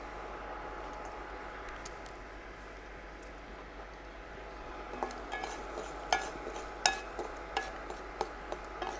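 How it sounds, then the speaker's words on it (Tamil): Tamarind sizzles softly as it fries in oil in a pan, a low continuous hiss, with sharp metal clinks and scrapes of a stirring utensil against the pan growing more frequent toward the end. "எண்ணெயில் வறுக்கணும்."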